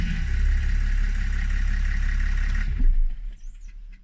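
A BMW E91 engine idles steadily after a rebuild, a close, low continuous rumble that cuts out after a few seconds, leaving quieter handling noises.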